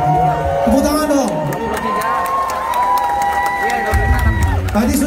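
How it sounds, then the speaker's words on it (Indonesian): Mall concert audience at Ashta Mall Senopati applauding and cheering loudly, a dense roar of clapping with whoops and shouts, while music tones and voices carry over the crowd throughout. "Tepuk tangan dong."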